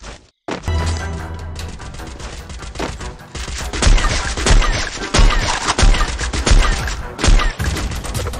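Kar98k bolt-action rifle shots in a video game match, loud sharp cracks and booms repeating at irregular intervals, interleaved with other gunfire, impacts and crashes in a busy, close firefight with no talk.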